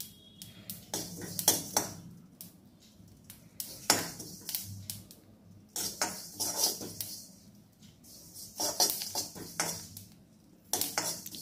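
Sesame seeds dry roasting in a pan for pori vilangai urundai, with light crackling mixed among frequent clinks and scrapes of a spoon against the pan, arriving in irregular bursts close by with no talk.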